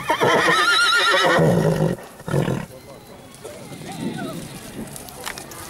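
Horse whinnying loudly and close by in a cramped space shared with cattle, a strong call lasting nearly two seconds followed by a shorter burst, then quieter animal movement and background sounds.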